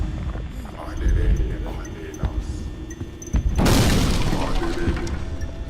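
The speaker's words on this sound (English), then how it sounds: "Was that fucking explosion necessary? That was very loud." A loud explosion booms out, a sudden heavy blast with a rumbling, crashing tail that follows quieter thumps and clatter, with voices talking around it.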